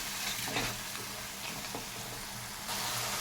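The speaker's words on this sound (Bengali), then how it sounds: "সামান্য একটু জল দিয়ে দিচ্ছি মশলাটা কষানোর জন্য" Masala spice paste sizzles and sputters in a pan after a splash of water is added, a soft, steady frying hiss with faint stirring scrapes, fairly quiet and close.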